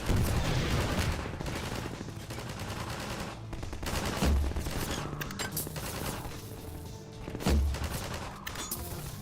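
Dense rapid gunfire in the video game Half-Life 2, with sustained automatic bursts and a few heavier booms, loud and continuous.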